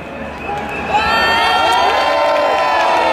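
A huge crowd cheers at the La Manif pour tous rally in Paris on 24 March 2013, a loud, dense roar of shouts and whoops that swells after the first second and holds steady.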